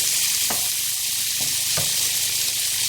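A tinned-sardine and tomato bhorta mixture frying over medium heat gives a constant, even sizzle, with three soft spoon scrapes as it is stirred.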